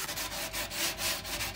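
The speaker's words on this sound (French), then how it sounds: "maintenant on polit les bords de nouveau pour affiner" Wooden board edges for a horizontal beehive are sanded with steady, close rubbing strokes, a continuous gritty scrape that pulses slightly with each pass.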